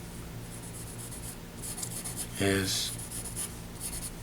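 A pencil rubs and scratches across paper while sketching a comic-book Judge Dredd drawing, with soft strokes and one louder scribble, under a voice that speaks briefly.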